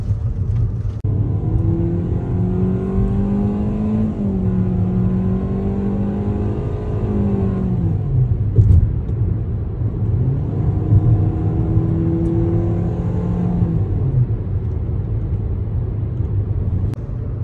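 A 2024 Hyundai Accent accelerates hard during a performance test drive. The engine note climbs through two strong pulls, dipping briefly in between, with steady road rumble underneath. It is loud and close, with no talking.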